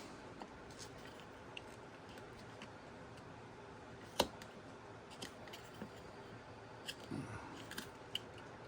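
Scissors cut through material in a Halloween craft project, giving sparse, sharp clicks and snips spread across the stretch, close but faint over a quiet background hiss, with one louder snap near the middle.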